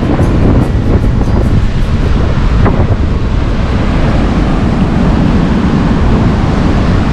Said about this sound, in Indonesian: Cuma anginnya gede.